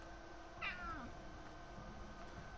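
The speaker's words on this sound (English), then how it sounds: "That fucking cat noise." In the video game Pathologic 2, a single cat meow rises and falls over a quiet, steady ambient hum, faint and somewhat distant.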